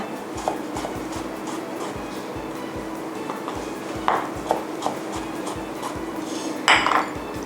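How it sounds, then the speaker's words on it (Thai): Rapid, steady chopping of coriander with a knife on a board, a dense run of close, even taps with a few louder knocks and clinks mixed in. "ตามด้วยสับผักชีนะคะ"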